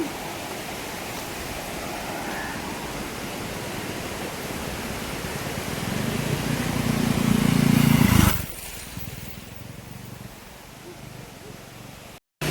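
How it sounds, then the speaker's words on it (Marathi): Rushing river water in a countryside setting, a steady broadband wash that grows louder and fuller before cutting off sharply, followed by quieter ambient hiss. "ते बघा ही नदी आहे, आवाज पण मस्त येतो, खळखळ खळखळ पाण्याचा आवाज"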